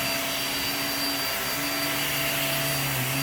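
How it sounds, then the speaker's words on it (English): A powerful deep-cleaning vacuum cleaner running on carpet, a loud continuous motor roar with a steady whine, close and unbroken throughout. "This is a powerful vacuum."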